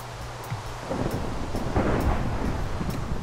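Rain falls in Minecraft while thunder rolls in, a steady hiss of rainfall swelling into a deep, loud rumble that builds and holds to the end with no voices.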